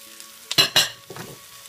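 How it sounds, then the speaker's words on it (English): Onions and celery for sausage stuffing hit hot sausage fat in a pan, with two sharp bursts of sizzle and clatter followed by a softer stir, short and close with no talking. "We're going to saute all this up"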